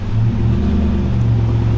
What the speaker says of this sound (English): Austin's moving his truck so that he can back up and fill up my water.